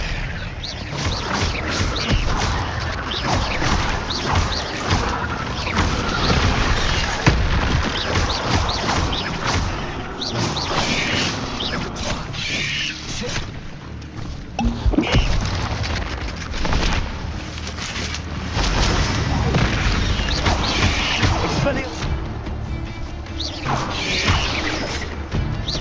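Spell-casting effects from a Hogwarts video game fill a loud, dense mix of magical whooshes, crashes and rushing noise that runs continuously with a few sharper impacts.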